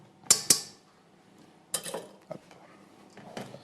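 Whisk or spoon clinking against a bowl while whipped cream is mixed into warm almond milk, with two sharp clatters at the start followed by scraping, knocking stirring sounds; a short spoken word is heard.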